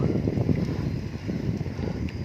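A fishing boat returning from the Gulf of Thailand approaches along the Pattani River. Its engine gives a steady, fairly loud low rumble with wind noise across the microphone, and there is no speech.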